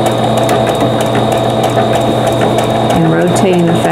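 A sewing machine stitches a bird appliqué on fabric at a 2.5 width and 1.8 length setting, a loud, close, rapid mechanical clatter with a steady motor hum and brief pitch shifts near the end.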